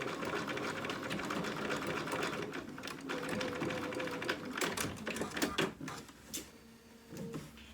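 A sewing machine stitches back and forth across a tie on a dog outfit, a rapid mechanical chatter that runs steadily then breaks into shorter bursts, close and alone.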